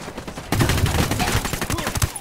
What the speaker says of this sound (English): I've got the target. Opening fire on these fuckers.